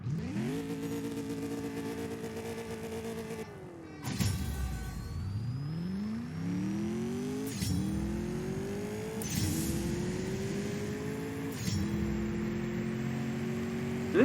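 A TVR Sagaris launching and racing in the CSR2 mobile game: a steady idle and rev hold, then a hard launch with rising engine pitch through several quick gear shifts, loud and close.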